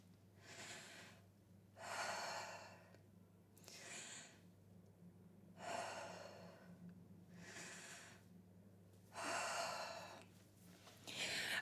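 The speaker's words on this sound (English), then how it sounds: "So just watch what happens with incorrect breathing." A singer demonstrates incorrect shallow breathing with the shoulders rising, producing about six loud, airy inhalations and exhalations, gasping and sighing in an even rhythm, close and alone.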